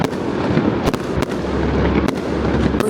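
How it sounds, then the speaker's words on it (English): Rapid-firing fireworks burst at night in Sydney, a dense continuous crackle with several sharp louder bangs and a deep rumble underneath, loud and sustained throughout. "We wrapped up our final night in Sydney with these wonderful fireworks."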